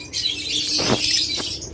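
Caged pet birds (budgerigars, cockatiels and lovebirds) in a bird shop chirp busily together, with a brief flutter of flapping wings near the middle, close and fairly loud.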